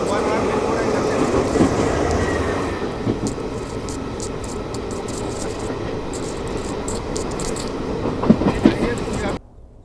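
A Tiruchirappalli–Rameswaram Intercity train rolls past near Rameswaram, a loud, continuous rumble of wheels and carriages with rhythmic clattering that runs steadily throughout, then cuts off at the end.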